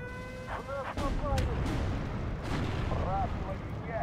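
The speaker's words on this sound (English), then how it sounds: "I'll bring in an artillery spot over that way." Artillery fire in the Steel Division 2 war game, heard as a few dull booms and a rumbling barrage over continuous battle noise, with voices and a radio-like tone in the mix.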